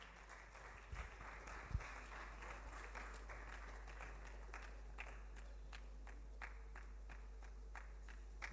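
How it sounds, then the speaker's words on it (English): An audience claps for student finalists at a secondary school debate competition. The applause is faint and distant, with scattered sharp claps over a steady low hum. "A round of applause for them"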